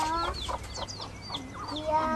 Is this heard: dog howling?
no